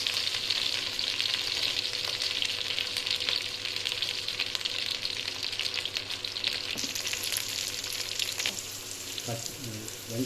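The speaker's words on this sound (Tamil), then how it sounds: "வெங்காயம் பாதி வதங்கிடுச்சு." Sliced onions and curry leaves sauté in hot oil for vegetable biryani, a loud, continuous close sizzle with occasional stirring clatter, the frying shifting tone and easing toward the end, with no speech.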